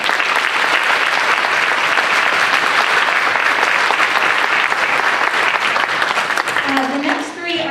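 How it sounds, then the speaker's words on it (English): An audience claps in a dense, sustained round of applause at a spring orchestra concert for student musicians, staying loud throughout before tapering off as a voice begins at the end. "So go ahead and applaud their hard work and their effort."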